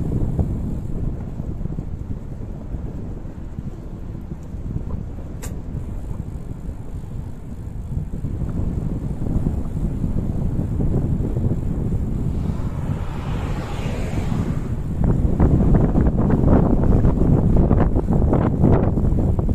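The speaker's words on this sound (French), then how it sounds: "Vous voyez combien il pousse le vent?" Strong wind roars and buffets the microphone in a continuous low rumble on a steep mountain-bike descent near Cerbère, gusting harder toward the end, with no voices.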